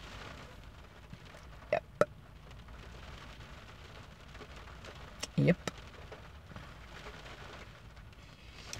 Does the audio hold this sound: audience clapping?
no